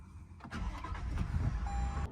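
A car engine cranks and catches at about half a second, then idles steadily and fairly loud to the end, with a faint high electronic tone near the close.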